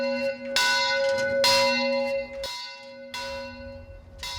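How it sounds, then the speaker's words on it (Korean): An old village church bell rings before a worship service. Loud, close strikes come roughly every second, each leaving a long, humming decay, with no voices. "예배가 시작되기 전 어김없이 교회의 낡은 종이 울립니다"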